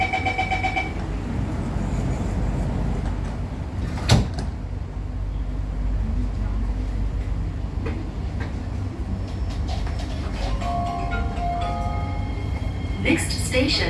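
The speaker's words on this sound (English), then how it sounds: "Doors are closing." Doors of a Singapore MRT train on the East West Line slide shut on a normal service, with a sharp thump, a run of warning chime tones and a steady cabin rumble under a voice.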